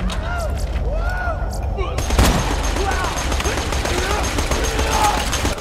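Gunfire in Borderlands 2, a loud sharp blast followed by rapid bursts of shots and chatter of weapons, with a player talking over the fight.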